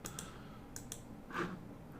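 Sharp computer mouse clicks at a desk while working in Autodesk Inventor, a few quick clicks in pairs then a slightly louder one, close and quiet with no talking.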